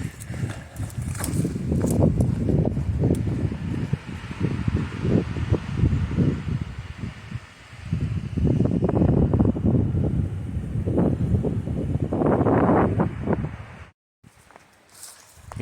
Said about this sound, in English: Still just windy, no rain yet.